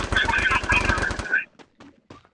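Rapid automatic gunfire in a video game, a loud dense burst of shots lasting over a second before cutting off, followed by a few faint clicks and sounds in near silence.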